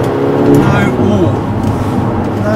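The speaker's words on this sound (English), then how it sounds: "So a nice little drive home in the rain" Audi S3 8P driving home in the rain, a steady engine drone and tyre hiss from inside the cabin, with someone talking over it.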